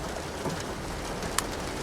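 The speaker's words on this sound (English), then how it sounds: "and now it's raining" Steady rain weather in the Euro Truck Simulator 2 video game, a continuous even hiss of falling rain with faint pattering and a brief sharp tick, with no talk.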